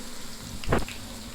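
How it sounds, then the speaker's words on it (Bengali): Chopped onions frying in mustard oil with cardamom and bay leaves: a constant, close hiss of sizzling, with a brief louder crackling burst midway. "এবার যেটা করতে হবে পেঁয়াজটাকে খুব সুন্দরভাবে ভেজে নেব বাদামি হয়ে গেলে"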